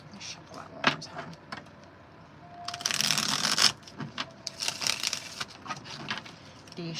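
Tarot cards are shuffled by hand during a live reading, heard as brisk riffling bursts and papery flutters, loudest in one long sustained riffle near the middle, with a voice talking intermittently.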